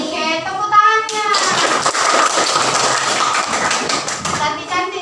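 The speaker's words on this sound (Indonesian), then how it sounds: "Oke, tepuk tangannya." Elementary school children clapping together in a classroom, a burst of mixed hand claps and excited young voices following a short sung or called-out phrase.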